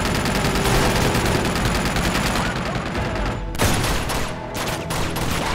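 Dense gunfire rattles in an Uncharted combat scene, loud rapid shots packed almost continuously, with a brief break partway through before the firing resumes.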